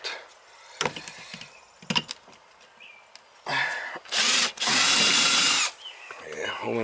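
A power drill works at rusty, partly stripped screws on an outdoor shower at a summer cottage, with short bursts, a whirring run and a long loud spin, plus handling clatter between.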